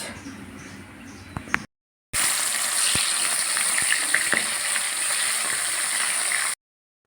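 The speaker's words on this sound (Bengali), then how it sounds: "মাছ ভাজছি" Snakehead fish fries in hot oil with a loud, continuous crackling sizzle. A brief cut breaks it early on, then it runs on evenly with occasional pops.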